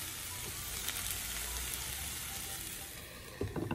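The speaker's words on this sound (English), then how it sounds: "The saute, still going strong." Cauliflower gnocchi with half an onion sautéing in a pan, a soft continuous sizzle that holds steady, then a few sharper stirring scrapes near the end, quiet and close with no one speaking.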